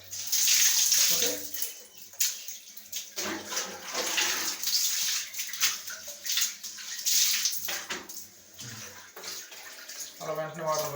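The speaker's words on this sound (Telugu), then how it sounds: "అలా వెంటనే వాటర్ పోసేసుకోండి." Water poured over hair during a hair wash: continuous splashing and running water with gurgles, fairly close, mixed with background talking.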